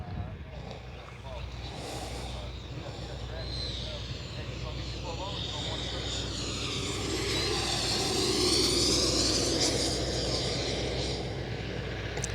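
An E-flite Viper 90mm electric ducted-fan RC jet making a flying pass, its steady whine rising and sweeping in pitch as it draws closer, heard outdoors over wind with people talking throughout.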